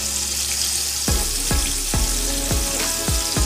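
Scallops sear in a hot pan with a continuous close sizzle. Sharp spitting bursts flare about every half second, as if the pieces are being turned or pressed, and nobody speaks.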